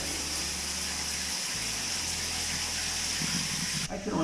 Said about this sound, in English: Turn it on. Cold water. I'll just use the shower head.